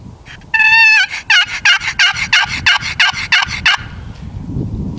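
Loud turkey yelps from a box call, one long opening note and then a rapid series of about a dozen sharp, raspy calls that fade into background hiss.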